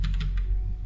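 Numbers entered on a computer keyboard while drafting a blue shelf for an L-shaped TV unit in design software: a quick run of light key taps over a low steady hum, close and moderately loud.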